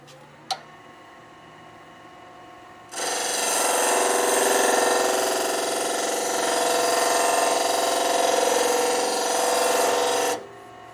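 A skew chisel chamfers a spinning wooden piece on a lathe while making a shaving brush handle, a loud continuous rasping scrape lasting around seven seconds after a brief tap, then stopping abruptly.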